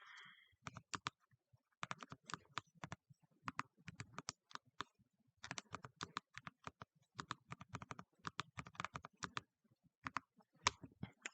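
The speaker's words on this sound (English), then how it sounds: "Type in the data." Someone types data into a spreadsheet on a computer keyboard, with quiet, clicky keystrokes arriving in quick bursts separated by short pauses. The keystrokes sound close but soft, and nothing else is heard between them.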